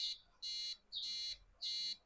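A piezo buzzer wired to an Arduino Uno beeps in a steady on-off pattern, a shrill tone repeating about four times at an even pace, close and alone.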